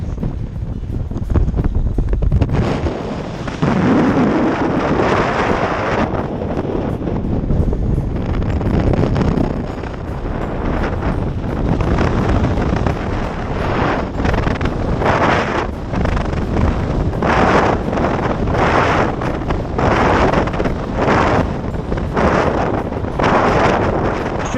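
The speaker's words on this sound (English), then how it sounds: "Should have the wind behind me for a long time now, which is working in my favour." Strong wind buffets the microphone on a salt flat on the route from San Pedro, Chile, to San Juan, Bolivia, a loud, continuous roar with gusty surges throughout and no voices.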